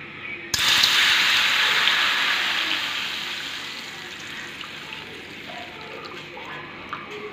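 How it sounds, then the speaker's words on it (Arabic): Water gushes suddenly into a pot for instant noodles seasoned with turmeric, a loud close pour that slowly tapers off into quieter trickles and light bubbling. "وهضيف دلوقتي الميه اهو، هضيف دلوقتي الميه"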